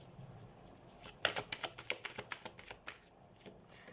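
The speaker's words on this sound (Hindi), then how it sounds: "सो फर्स्टली हम कार्ड शफल कर लेते हैं" A deck of tarot cards is shuffled close by in a quick riffling burst of about a dozen crisp flutters lasting a couple of seconds, quiet, preceded by faint room noise.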